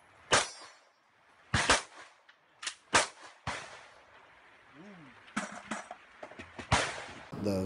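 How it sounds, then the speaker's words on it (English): Sharp, bright gunshots from a weapon firing at an automatic-like cyclic rate ring out in short, irregular bursts, fairly distant, with a faint voice and some clanging between them. "The way that it's firing as far as the cyclic rate, it does mirror like a full automatic weapon."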